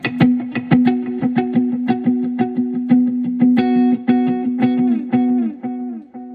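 Electric guitar playing a steady run of plucked notes through a loud dotted-eighth delay, each attack trailed by prominent repeating echoes that blur into a continuous rhythmic shimmer, close and alone with no talking.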